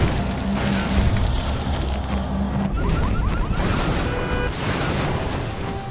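A loud, dense blast from the video game Marvel Nemesis: Rise of the Imperfects: heavy booming crashes and debris fill the whole span with sustained, roaring intensity and no talk.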